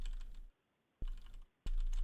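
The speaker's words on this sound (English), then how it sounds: "People can see you're just typing and shit." Rapid clicking keystrokes on a computer keyboard come in three bursts of fast typing separated by short pauses, close and clear with no voices.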